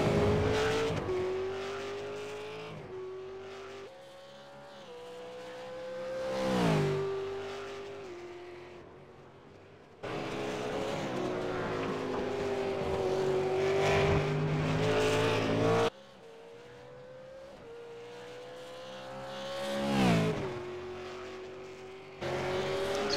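Race cars lapping a circuit in the Venom Series, engines whining up through gears and swelling as cars approach and pass, with repeated drops and rises in pitch, occasional tire squeal, and abrupt cuts between passes.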